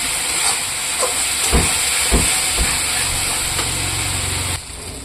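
Garlic sizzling and frying in a pan, cooked until reddish for a Bengali rohu fish curry; a steady hissy sizzle runs throughout with a few soft clinks or stirs, then the sizzle drops near the end.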